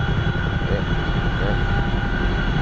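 The CH-47F Chinook helicopter in the DCS flight simulator, flying over Afghanistan, gives a steady, loud, droning engine and rotor roar with a constant high whine, unbroken throughout.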